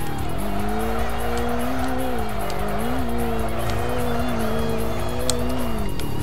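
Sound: racing car tyres skidding in video game Kaido Racer 2

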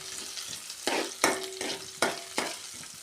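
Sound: ginger and garlic frying in a pan

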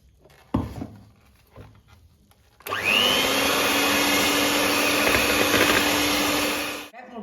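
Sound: electric beater beating eggs with sugar at low speed

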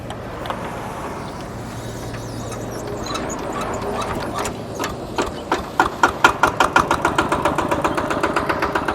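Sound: Kubota RT walk-behind tractor diesel engine running

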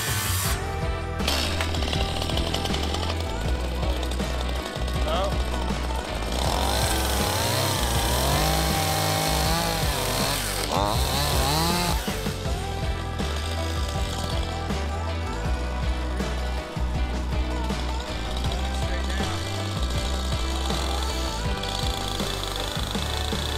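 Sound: circular saw and chainsaw cutting a wooden beam for a header

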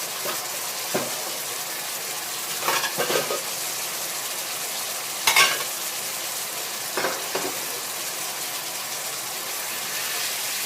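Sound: stir-frying blanched rice noodles for pad thai

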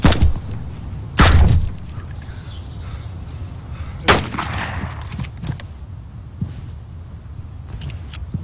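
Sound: gunfire, rounds being fired in a video game

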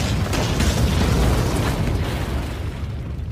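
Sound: explosion of a shinobi blowing himself up in a cave

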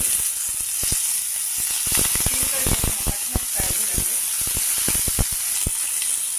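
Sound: urad dal, mustard, cumin and curry leaf tempering sizzling in oil

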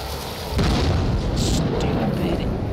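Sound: grenade explosion in a video game

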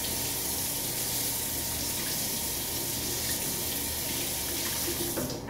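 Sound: water running from a tap to wet a towel

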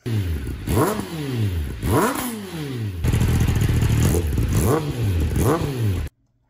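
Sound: Ninja motorcycle engine revving while not yet warm

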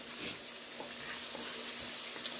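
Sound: vegetables stir-frying in a skillet

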